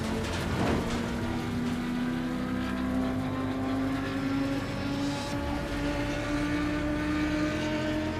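Racing car engine in Assetto Corsa Competizione, driven with manual shifting, drones steadily and loudly throughout with a sustained tonal whine that climbs and shifts through revs, with no talking.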